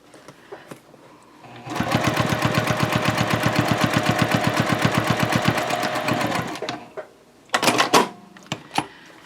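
A sewing machine runs a steady, rapid stitching burst for about five seconds while stitching a triangle pouch at a 3.0 stitch length, edges held together, followed by a few short handling clicks and rustles.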